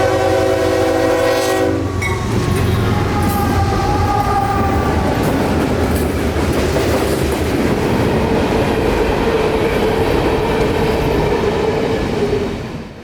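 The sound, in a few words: freight train passing with horn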